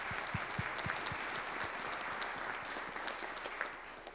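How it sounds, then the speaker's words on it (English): Church congregation applauding for Drew during a Sunday morning Lutheran service, a steady, fairly faint patter of many hands clapping throughout, with no talking. "So let's give Drew a round of applause."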